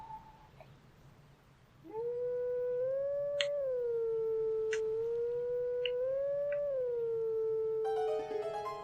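A wolf howls in the video game Zelda: Twilight Princess, one long, sustained, gently wavering tonal howl over a low background hum, with faint short clicks and a brighter chime near the end.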